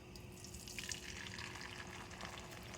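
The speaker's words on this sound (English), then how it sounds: "So you should hear that nice little sound of it frying." An omelet of whisked eggs sizzling in two tablespoons of olive oil in a pan, a soft, continuous crackling hiss heard up close and faint, with no one talking.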